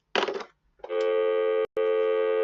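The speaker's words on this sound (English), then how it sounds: "This is an old school phone, old digits, everything." An old-school telephone with old-style digits gives a short crackly burst, then a loud, steady electronic tone that cuts out briefly and resumes, heard alone.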